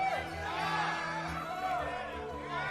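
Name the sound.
pirate crew cheering for Captain Bonnet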